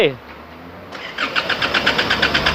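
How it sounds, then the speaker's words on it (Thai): Isuzu D-Max pickup engine starting, a short cranking whir that catches into a close, rhythmic idle with regular pulses, with no clear speech. "อาการที่มา เอาเลยสตาร์ทดู นะครับ เอา อีกที"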